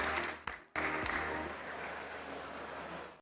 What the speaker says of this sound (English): I want everyone to give a round of applause for all our esteemed guests.